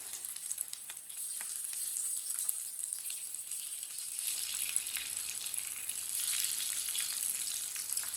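Aloo kababs frying in a pan over medium heat, a steady soft sizzle with faint crackles and pops that brightens slightly partway through, no voices.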